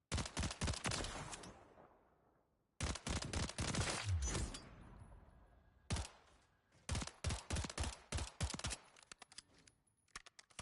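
Pistol gunfire at a shooting range in the video game Call of Duty MW3, fired in rapid bursts of sharp, loud cracks with brief pauses between volleys and a final string of quicker shots.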